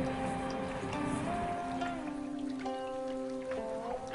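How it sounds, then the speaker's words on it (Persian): Rain patters steadily on a surface in a city, with sustained tonal hums and drones running under the constant wash. "باران زیبایی"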